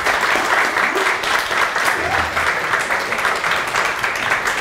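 Audience applause at a hip-hop meet, a dense steady wash of clapping and crowd noise throughout, loud and sustained without pause.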